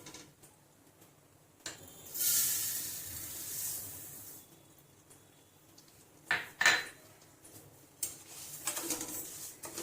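Broken wheat roasting in ghee over low heat for Surati fada lapsi, heard as intermittent clinks and scrapes of a utensil against the pot with a soft hiss between them, close and fairly quiet.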